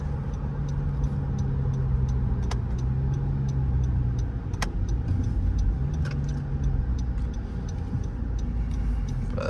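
A car engine drones steadily from inside the vehicle while the driver downshifts gears. The low rumble shifts pitch slightly between gears, and faint ticking clicks sound over it.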